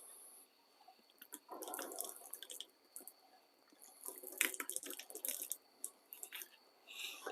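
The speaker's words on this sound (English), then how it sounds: "I guess I could still splash a little water on it" Water splashed by hand onto a spalted wood carving, heard as close, irregular bursts of splashing and dripping that come and go, with no talking.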